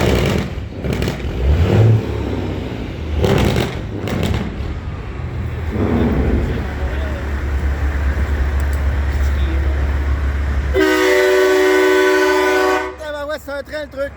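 Train-style truck horn at a diesel truck show, a loud, sustained multi-tone blast that cuts in late after engine rumble and people talking, then breaks into wavering pulses.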